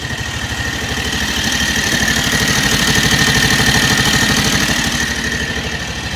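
Kawasaki Mule 3010 utility vehicle with a swapped Predator 670cc engine runs at a steady, loud, close idle, a continuous even thumping pulse throughout with no voices.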